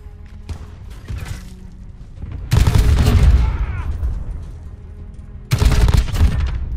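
Gunfire rattles in loud bursts in the video game Rust during a search-and-destroy match, with one sharp shot early, then two heavy fusillades of rapid shots separated by a quieter stretch.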